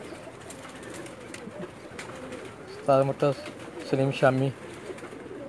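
A special pigeon given as a gift from Mecca coos in two clear, close bursts with other pigeons murmuring in the loft, and someone speaks briefly.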